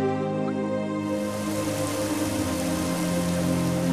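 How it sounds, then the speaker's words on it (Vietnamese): Steady rain in an animated fairy-tale cartoon, a dense continuous patter of drops on surfaces, with a tonal music bed underneath and no speech. "Ôi, trời đang mưa mà."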